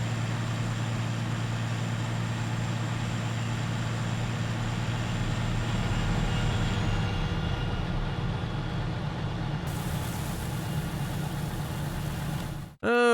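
A mower engine runs with a steady mid-pitched drone in the Farming Simulator 19 farming game, holding constant and loud throughout before cutting off abruptly at the very end.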